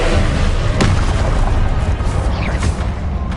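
Confringo blasting spell from the video game Hogwarts Legacy, a loud booming explosion with a sharp crack near the start, followed by dense rumbling debris and crackling bursts that fill the whole stretch.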